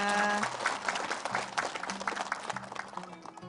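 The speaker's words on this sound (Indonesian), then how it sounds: "Kita minta tepuk tangannya." Studio audience applause on an Indonesian religious TV talk show, a moderate round of clapping that gradually thins out, heard somewhat distant with faint voices beneath.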